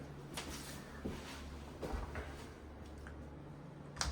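A closet door opening in a remodeled home, a quiet series of soft clicks and light knocks over steady room hum, with no talking.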